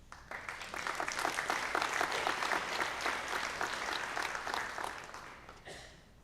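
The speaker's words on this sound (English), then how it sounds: "Let's give a round of applause for our next two presenters, Mrs. Cindy Erickson and Mr. Jake Erickson." Sustained audience applause at a high school scholarship and awards ceremony, a dense, steady wash of many hands clapping at full strength for several seconds before tapering off near the end.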